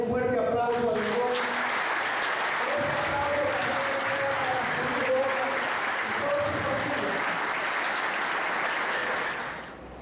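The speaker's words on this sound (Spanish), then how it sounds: "que le den un fuerte aplauso a Lebrón." Sustained audience applause fills a community gathering of business owners and investors, loud and steady throughout, with some voices mixed in before it fades out at the end.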